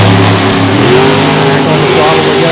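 Throttle stop drag race cars launching hard at Beech Bend, a loud sustained engine roar with rising revs, close by, under an announcer's commentary.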